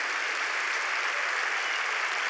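A church congregation clapping their hands in praise during a sermon, a dense, even roar of many hands clapping together that holds steady throughout with no voices.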